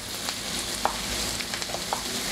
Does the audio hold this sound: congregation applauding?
no